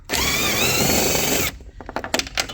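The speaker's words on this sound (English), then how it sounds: "so this one I'll use this thing, that's a Torx 40, so I'll just remove this one first" Power driver spinning out a Torx 40 screw on the radiator fan of a 2016-2022 BMW X1 F48, a loud steady whine for about a second and a half, then scattered clicks and clatter of the loosened parts.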